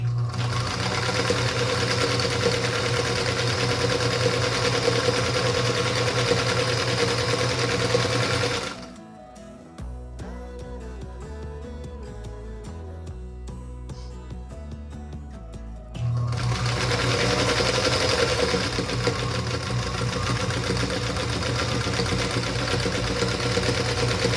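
A sewing machine chain-pieces quilt blocks for a Wandering Star quilt in two long, steady, close stitching runs with a quieter pause of a few seconds between them.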